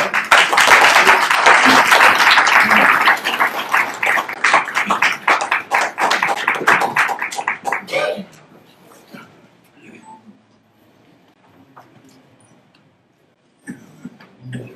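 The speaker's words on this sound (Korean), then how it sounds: "큰 박수로 우리 함께 세미나에 참여하도록 하겠습니다" Loud, dense applause from a crowd at a Korean church seminar fills the first eight seconds, then fades to near silence, with a few faint sounds returning at the end.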